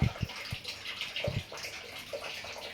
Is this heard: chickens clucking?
no